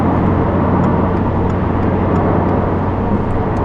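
A 2022 Subaru WRX on a mountain pass carries a loud, steady engine and road roar as it sweeps through long corners, with faint ticking above a constant broadband rush.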